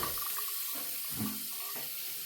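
Water runs steadily from a tap into a sink in a trail bathroom along the Appalachian Trail in North Carolina, a close, continuous splashing rush with slight shifts in flow.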